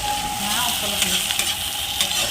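Onions fry briskly in a pan and are stirred, making a dense, steady sizzle close by with light scraping strokes through it and no talking.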